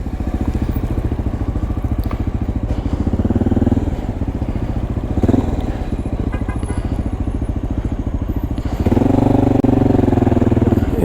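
A Honda XR650L single-cylinder motorcycle engine thumps steadily and loudly nearby, rising briefly to a higher rev about three-quarters through, with a voice talking over it.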